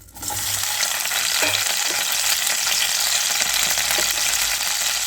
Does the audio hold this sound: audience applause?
no